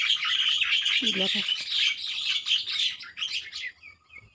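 Many birds chirping in a fruiting garden plot, a dense, busy chorus of high tweets and calls that fills the whole clip, with a brief voice speaking near the start.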